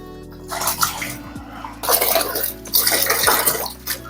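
Water pours and splashes into a bucket of worm castings while making worm-casting fertilizer liquid, a steady close gushing in uneven bursts with faint clinks and low hum underneath.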